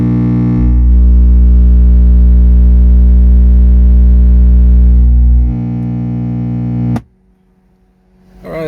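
A steady, very loud 60 Hz bass tone pumped through a car audio subwoofer by a Power Acoustik Vertigo VA1-10000D amplifier, droning for several seconds, dropping in level, then cutting off abruptly before a brief low rumble returns.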